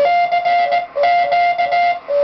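A radio rig keyed in Morse code through a K1EL K42 keyer, a clean steady tone sounding in short and long beeps with brief gaps, loud and close, no voices.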